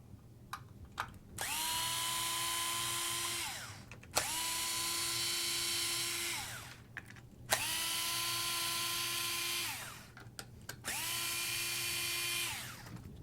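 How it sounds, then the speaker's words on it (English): A power nut driver fitted with a hex bit spins out cap head screws from a Twin Hammers chassis, four loud whirring bursts of about two seconds each, with a steady pitch that drops as each run winds down and short clicks between them. "put it in my nut driver, and I'm going to remove these 4 cap head screws"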